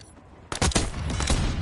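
Rapid, loud hand cannon gunfire in Call of Duty: Black Ops 6 breaks out after a brief quiet lead-in, a dense string of close, booming shots with no voice over them.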